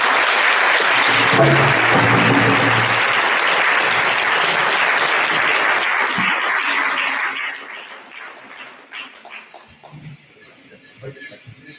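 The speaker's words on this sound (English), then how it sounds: "Let's give them another round of applause." Applause from a crowd at a National Day for Truth and Reconciliation sunrise ceremony in St. Paul, Alberta, thanking dancers: dense, steady clapping for about seven seconds, then fading into scattered claps and quieter background sounds.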